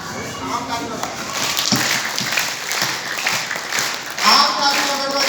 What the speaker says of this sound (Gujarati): આમ તાળી વગાડો.